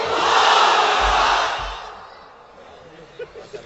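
A large crowd roars out a loud, sustained takbir chant together at an Islamic sermon gathering in Bangladesh, then the sound fades away into near quiet.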